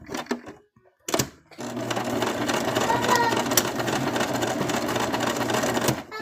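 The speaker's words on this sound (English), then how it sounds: "I'm going to stitch a little bit more right there." A sewing machine stitches a plush pumpkin-themed mouse in one steady, close mechanical whir lasting several seconds, after a few short taps and stops.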